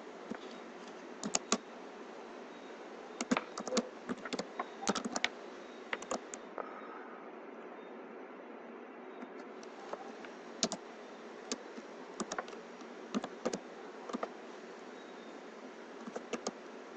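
Password typed on a computer keyboard during a Windows 7 installation, with quick bursts of close, crisp key clicks separated by short pauses over a steady background hiss.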